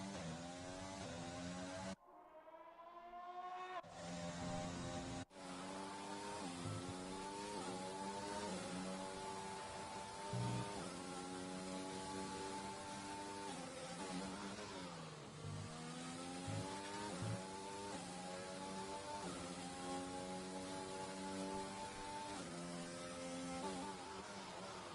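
Formula 1 race car engines roar in a PS4 racing game at the Australian GP, high-pitched and continuously revving with gear-change pitch sweeps, loud and close throughout, one brief dropout near the start.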